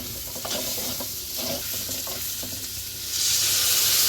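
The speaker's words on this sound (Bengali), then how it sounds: "এখন আলু আর পেঁয়াজ একসাথে ভেজে নেব" Potatoes and onions fry together in a pan with a continuous sizzle, broken by stirring scrapes, and the hiss swells louder toward the end; no one speaks.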